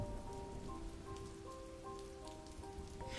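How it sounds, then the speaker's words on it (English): Steady rain falling outside a broken window, a soft continuous patter with faint drips, heard quietly and alone under a low musical drone. "The sound of rain outside echoed through the broken window."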